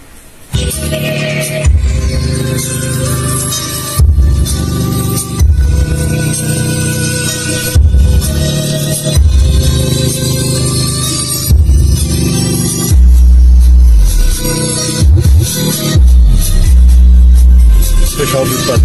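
Music plays loudly from a Mondial CM-700 portable Bluetooth speaker connected to a car stereo, a continuous song with a strong, steady beat and full bass throughout.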